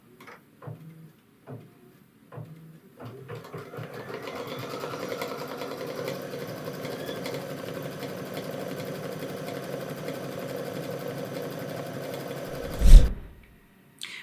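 A Baby Lock Solaris Vision embroidery machine starts with a few separate clicks, then stitches in a steady, fast mechanical hum and rattle for several seconds before a loud thump near the end.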